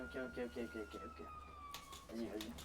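An ambulance siren wails at a distance as a faint, steady rising-and-falling tone beneath nearby people speaking French at night.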